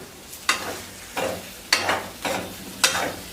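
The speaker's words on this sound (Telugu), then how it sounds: "మిక్సీ గిన్నుకున్న ఉల్లికారం కూడా ఇందులోకి యాడ్ చేసుకొని మరో కొద్దిసేపు దీన్ని ఫ్రై చేసుకోవాలి" Bitter gourd frying with onion chili paste in a pan, stirred in five distinct scraping, sizzling strokes spaced roughly half a second to a second apart, close and fairly loud with no talking.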